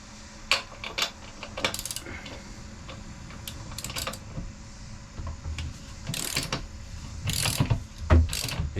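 A ratchet wrench clicks in repeated bursts while a 19 mm rear axle nut is loosened on a Honda Grom motorcycle, with metallic ratcheting strokes close and fairly loud, separated by brief pauses and small clinks of tools.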